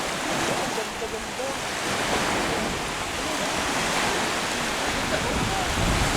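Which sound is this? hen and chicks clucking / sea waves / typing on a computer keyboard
sea waves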